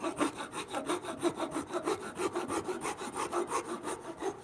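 A hand saw cuts straight down through a small wooden toy block for a timber-frame mini house, making a steady, rhythmic rasp of about four strokes a second. Each stroke is close and clear, with no talking.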